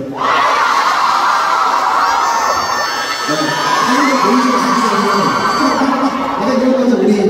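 A concert crowd at a show in London, part of a 2024 Europe tour, screams and cheers loudly and without a break, high shrieks and whoops blending into a dense roar of voices.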